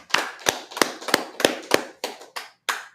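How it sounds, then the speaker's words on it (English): A congregation gives a short round of applause at a feast-closing gathering, about nine sharp, evenly spaced claps in quick succession, fairly close and clear with no talking over them. "Let's clap it up for those 7 verses"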